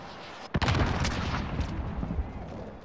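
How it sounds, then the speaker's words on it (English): Gunfire in the video game Call of Duty Warzone, a dense sustained burst of rapid shots and booming reports, loud and close, with players' voices faintly underneath. "I'm hearing those shots."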